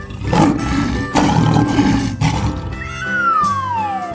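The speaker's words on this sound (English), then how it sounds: "Lion." A lion roars in a 3D animal slide video game, several loud, rough roaring bursts in a row, followed by a falling whistle-like game tone, with no talking.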